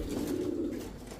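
A female pigeon gives a low, soft coo, one brief sustained call close by with no other sounds.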